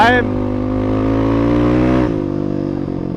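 Suzuki DR350 motorcycle with a Niche 400 big bore kit held at half throttle, a loud close engine drone with a steady harmonic note that dips and settles after two seconds, with tyres breaking traction on a test ride.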